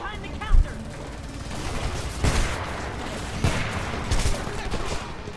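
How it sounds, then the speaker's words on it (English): A shotgun in Homefront booms in several heavy, spaced blasts, close and loud, mixed with other gunfire and battlefield clatter. "Now that's a good shotgun."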